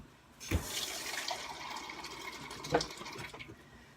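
Water poured from a tap into a measuring cup while making homemade spaghetti sauce, a continuous splashing fill with a sharper burst near the start and another toward the end.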